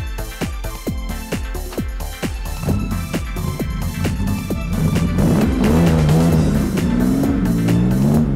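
A sports car on fat wheels with ultra-sticky Toyo tyres drives fast, giving a steady, loud run of rhythmic thumps and an engine note that builds and rises toward the end, with no talking.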